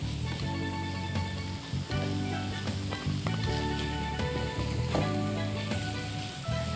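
Pieces of meat and previously fried potatoes sizzle in a pan, a steady dense crackle with faint stirring clatters, heard alone and moderately quiet.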